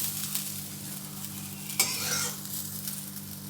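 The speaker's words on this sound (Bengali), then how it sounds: "আর একটু নুন দিলাম দিয়ে ভেজে নেব খুব বেশি ভাজবো না করলাগুলো" Bitter gourd pieces frying in oil in a kadai with turmeric and salt, a steady close sizzle under spatula stirring and one sharp scrape, with no talk.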